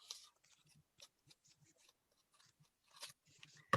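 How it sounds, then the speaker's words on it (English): Scissors snipping through bunches of thread, a string of close, crisp, irregular cuts and crunches with quiet pauses between, no talking. "I'm going to just wiggle my scissors in there and cut along there."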